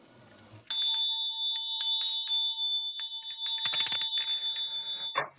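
A hand bell, taken from a workplace, rings out loud and close as a series of bright metallic strikes that repeat in an uneven rhythm, each ringing on and slowly fading in a quiet room.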